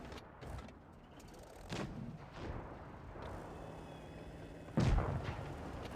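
Tank cannons fire in World of Tanks Blitz, with a Tiger (P) in the battle: several muffled booms and rumbling impacts among background battle noise, ending in one louder close blast, all fairly quiet and with no speech.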